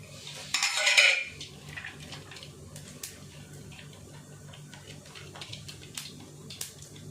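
Mustard seeds, toor dal and urad dal fry in hot oil for a crisp okra stir-fry, a faint crackle and light popping behind a clattering burst of metal utensils and scattered ticks.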